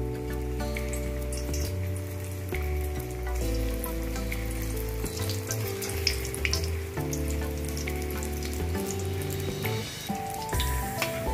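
Potato fingers coated in noodles frying in hot mustard oil, a continuous close sizzle and crackle of bubbling oil heard over background music.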